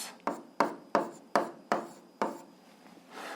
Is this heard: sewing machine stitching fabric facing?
no